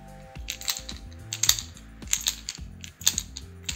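A Tsurinoya DW76 88SP fishing lure is shaken so the weight inside rattles, giving quiet, close, irregular clicking and clattering bursts with soft knocks.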